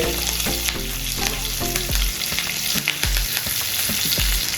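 Cumin and fresh curry leaves sizzle in hot oil for a coconut chutney tempering, a steady loud crackling hiss with occasional sharper pops and a few low stirring thuds, no voices.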